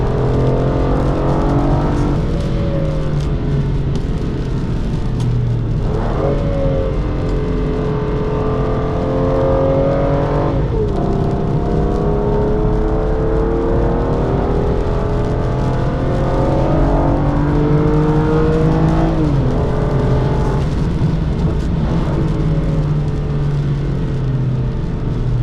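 An Aston Martin DB9 laps a race circuit heard from inside the cabin, its engine droning loud and continuous while the pitch climbs through each gear and drops at every shift, with no talk.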